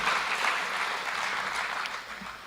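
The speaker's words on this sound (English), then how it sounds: "The hand claps are not enough." Audience applause at a conference hall gathering, a steady wash of many hands clapping together, moderately loud and sustained for the whole stretch before easing slightly, with no voices over it.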